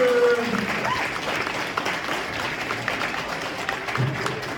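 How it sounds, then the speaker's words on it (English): An indoor school crowd gives sustained applause and cheering for a school drum crew at a Central School Brantford assembly, a steady wash of clapping at moderate loudness from start to finish. "give them a big cheer and round of applause"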